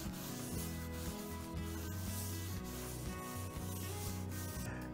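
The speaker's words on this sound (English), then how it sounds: "Add a little oil to the Dutch oven, just like you're seasoning it, not very much. Rub that around, get the bottom and all the sides." Oil is rubbed around the bottom and sides of a Dutch oven, giving a steady, close scraping and rubbing texture with short rhythmic strokes and no talking.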